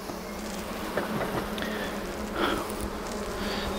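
Honey bees buzz around an open hive during a spring inspection, a dense steady drone close by with individual bees zipping past in brief louder passes.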